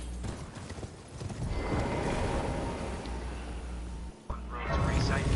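A horse galloping in the video game Elden Ring, rapid rhythmic hoofbeats rumbling under a voice talking, with a short dip near the end before the hooves resume.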